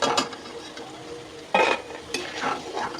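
Fried potato pakoras being lifted from hot oil in a kadai with a slotted spoon: close metallic scrapes and clinks against the pan over a soft sizzle, with a sharper scoop at the midpoint and another near the end.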